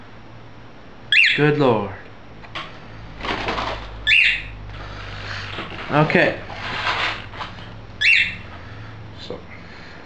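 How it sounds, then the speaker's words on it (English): A bird squawks in a few sharp, loud bursts close by, with rustling and fluttering between calls; a person speaks briefly in between. "This is the bird that's been making all the noise."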